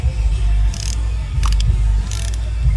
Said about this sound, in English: I can go ahead and tighten these 4 bolts down.